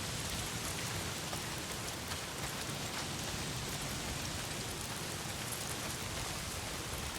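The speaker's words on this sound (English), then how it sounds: "A lot of it's pissing down the rain." Heavy rain pours down in the video game Days Gone, a dense, constant hiss of drops on surfaces with no pauses, heard alone at an even, moderate level.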